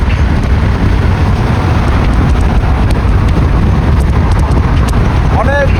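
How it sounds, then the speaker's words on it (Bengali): Strong wind sweeping across open desert near Jeddah, Saudi Arabia, buffeting the microphone with a loud, continuous low rumble that barely lets up for the whole stretch. "অনেক বাতাস।"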